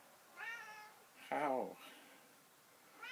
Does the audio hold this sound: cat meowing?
yes